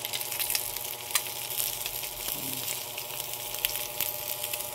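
Salmon fish sizzling in a nonstick grill pan, a steady close frying hiss with faint crackles and pops and no talk.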